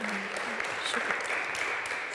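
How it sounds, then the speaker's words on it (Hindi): A church fellowship congregation claps loudly, a dense, even wash of applause that holds steady from start to end. "खुदा के रूह के लिए हम ज़ोरदार तालियां बजाएंगे।"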